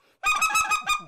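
A handheld goose call imitating geese clucking, a rapid rhythmic burst of six or seven sharp, nasal honking clucks, loud and close after a brief quiet start.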